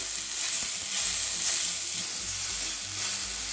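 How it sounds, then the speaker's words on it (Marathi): Ambadi flower leaves sauté in a little oil in a pan, giving a steady, close hissing sizzle that holds even throughout with faint stirring underneath and no speech. "आता यावरही आपण थोडंसं तेल टाकून घेऊ आणि छान असं परतवून घेऊ"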